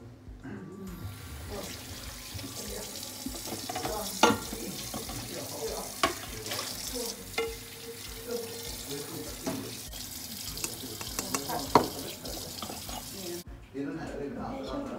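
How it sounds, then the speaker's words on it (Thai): Tap water runs steadily into a kitchen sink while plastic dishes are washed, with soft knocks and clatters scattered through the flow, close and continuous, and a voice faintly present. "เดี๋ยวแบบจะล้างจานนะคะ"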